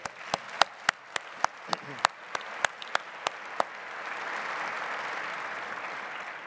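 Audience at a transportation conference's plenary awards session: a few sharp, evenly spaced individual claps that build into a fuller, sustained round of applause from the room.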